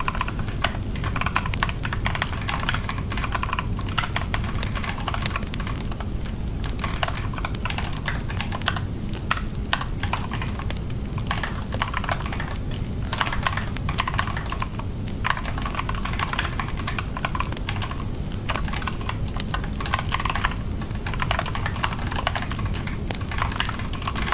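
Steady, rapid typing on a computer keyboard during game-development work: dense, continuous key clatter with bursts and brief pauses over a constant background bed, with no talking.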